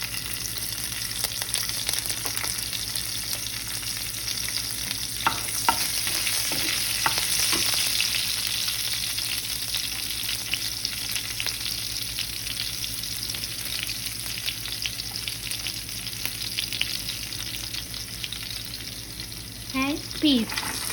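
Chopped green chilies sizzle steadily in hot oil with cumin seeds, a continuous bright crackle with occasional stirring scrapes, fairly close, the pan noise holding evenly throughout.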